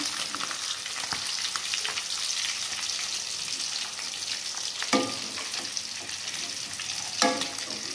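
Chicken sizzling and crackling in hot oil, a continuous bright fry with a few clunks of a utensil against the pan.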